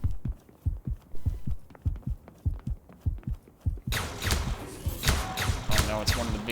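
Heartbeat effect from the video game Simulakros, a steady close thumping pulse of paired low beats repeating throughout, joined midway by a loud burst of dense noisy game sounds over the continuing rhythm.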